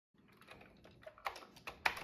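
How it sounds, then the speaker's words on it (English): Typing on a computer keyboard: a quick, uneven run of close, crisp key clicks that grows louder toward the end, with a sharp final tap, and no voices. "Let's get typing and see what we get."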